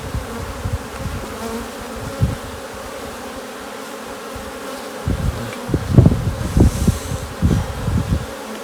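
Honeybees buzz steadily around, a dense droning hum with louder bursts as bees pass close, growing busier toward the end.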